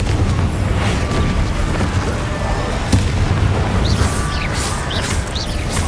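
Fiery blast spells in a wizard-school video game, a continuous loud rumbling boom with crackling bursts and sharp pops layered over it, all at close range.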